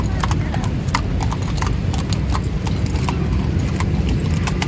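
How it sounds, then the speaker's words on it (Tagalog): Horse hooves clip-clop in a fast, steady rhythm on a Marrakesh street, close and prominent over a constant rumble of traffic and city noise. "Talaga palang kabayo."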